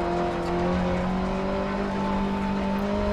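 A rally car engine in Dirt Rally drones continuously at steady pitch, barely accelerating as it struggles, loud and close with constant harmonic hum and no speech.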